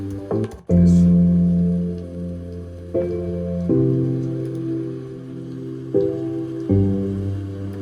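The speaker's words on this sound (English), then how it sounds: "I was able to get some rain effect here." A soft rain-like patter runs beneath sustained, warm musical chords that shift every few seconds.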